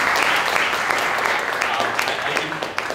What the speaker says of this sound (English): So can we extend a round of applause and welcome them.